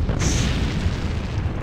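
A heavy artillery explosion in the WWII strategy game Sudden Strike 2, a deep booming blast with a brief bright crack at the start, then a rumbling tail amid battle noise.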